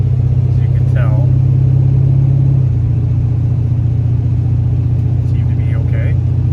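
A car cruising down the road after repairs to its water pump, intake oil leak and radiator, its engine a loud steady rumble with a slight shift in pitch midway, while someone talks over it.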